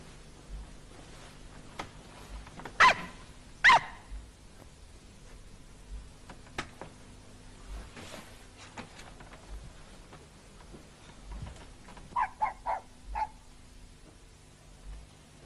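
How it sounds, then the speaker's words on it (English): A small dog gives a few sharp barks, two louder yaps early on, then a short quick run of yips later, fairly faint and distant in a quiet room. "We should let that wee dog out."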